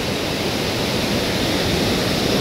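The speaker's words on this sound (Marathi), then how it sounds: "राधानगरी परिसरामध्ये पावसाची संततधार चांगल्या प्रकारे सुरू आहे" Steady monsoon rain pours at Radhanagari, a dense, unbroken broadband hiss of even loudness from start to finish, close and enveloping, with no voices or distinct drops standing out.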